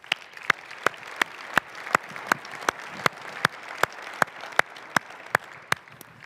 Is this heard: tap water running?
no